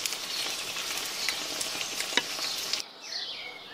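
Tomatoes frying in oil for a dum bhindi bhujia, a bright close sizzle with faint stirring scrapes that cuts off abruptly near the end, leaving quieter hiss.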